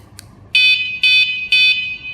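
A KS-SF22R vehicle security alarm gives three loud, sharp electronic beeps, evenly spaced about half a second apart, after a faint click.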